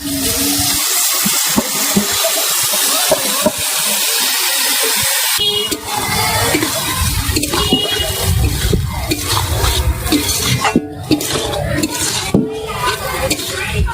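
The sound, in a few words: rice and lentils frying in a pan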